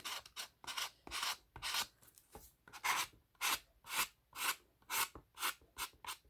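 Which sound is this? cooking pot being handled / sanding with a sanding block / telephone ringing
sanding with a sanding block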